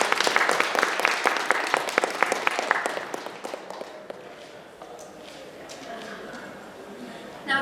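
Audience applause for youth leadership award winners at an Asian Heritage 2025 event: dense clapping that is loud for about three seconds, then thins into scattered claps with crowd murmur.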